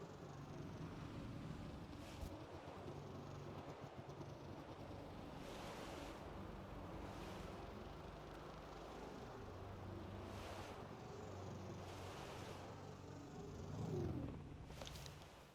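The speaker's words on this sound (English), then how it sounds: "It is very windy." Wind blows across an open landscape in the video game Sable. It is a continuous broad rushing wash with gentle swells and a stronger gust near the end, faint and steady, with no talking.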